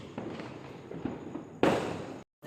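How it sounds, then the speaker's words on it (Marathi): Firecrackers go off at night during Laxmi Puja celebrations, a few faint distant pops and crackles followed by one louder, nearer burst that crackles briefly before cutting out. "आमचे फटाके वाजवून चालू होत."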